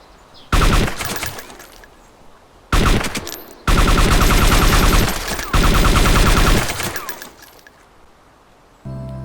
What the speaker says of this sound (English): the suppressor works, and it works very well, reducing the sound of the AKS-74U by quite a bit